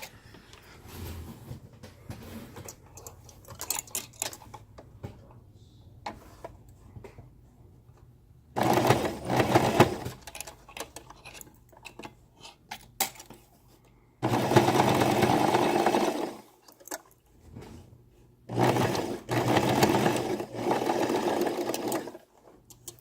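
Sewing machine top stitching a reusable cloth pad, running in short bursts of steady rapid stitching separated by quiet pauses, fairly close.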